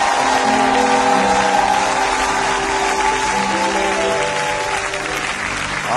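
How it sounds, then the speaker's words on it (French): A church congregation at a French-language worship service applauds in praise of the Lord, producing a loud, sustained wash of many hands clapping that stays steady throughout before easing slightly at the end. "Est-ce que tu peux vraiment acclamer le Seigneur?"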